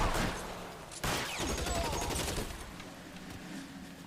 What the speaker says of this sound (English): Yeah, I'll take a Tommy gun.